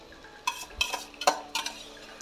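A spoon scrapes and stirs through rice in a cooking pot for tomato rice, several short scraping strokes with light clinks, close by and fairly quiet.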